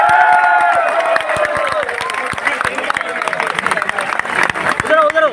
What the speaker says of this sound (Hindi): अपने लिए जोरदार तालियां बजाएं।